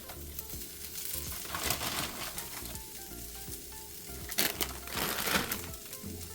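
Kale frying in a hot pan, an even close sizzle with scraping and rustling from stirring, the leaves crackling more loudly in a couple of brief bursts.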